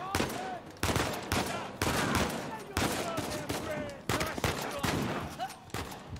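Dense gunfire from the Uncharted 4 video game, several loud bursts and volleys in close succession across the whole stretch, with a player's voice talking over the shooting.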